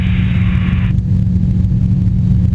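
A light sport aircraft engine drones loud and steady at full throttle, a low constant roar with a higher hiss that drops away after the first second.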